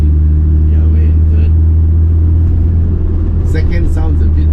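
BMW 2002 Tii Turbo race car from 1975 driving in third gear on Genting, a loud steady engine drone with deep low rumble throughout and faint voices underneath.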